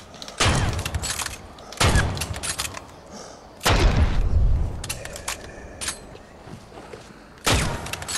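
Several heavy booming gunshots from the video game Dead Island 2 fire at irregular intervals, each a loud burst followed by rumbling decay.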